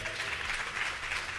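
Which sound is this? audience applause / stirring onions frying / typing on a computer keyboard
audience applause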